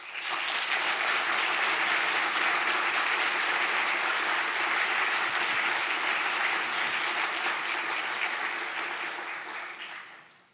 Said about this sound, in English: Can we please applaud all our nominees?